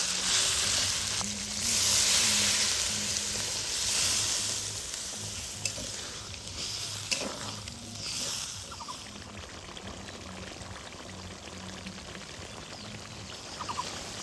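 Mutton skin with orange juice sizzles in a pan after a little water goes in, a loud hissing burst at first that settles into a steadier, softer bubbling sizzle with occasional stirring taps.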